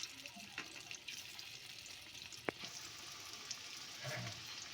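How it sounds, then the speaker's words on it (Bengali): Jackfruit seed dhokla pieces fry in hot oil with a quiet, continuous sizzle and hiss. A sharp click stands out midway, and the bubbling grows a little busier toward the end. "একটু লাল লাল করে ভেজে নেব।"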